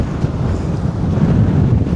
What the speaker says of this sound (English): the wind is really hitting from this direction